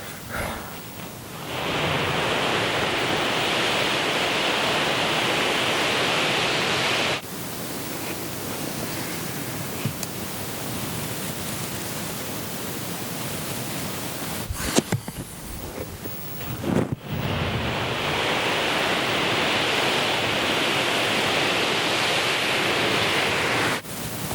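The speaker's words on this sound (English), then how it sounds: "I found that the duster produced a realistic gusting sound" Wind gust effect made by recording a feather duster and a towel: broad rushing whooshes swell and hold, fall away briefly in the middle with a few soft knocks, then surge back at steady volume.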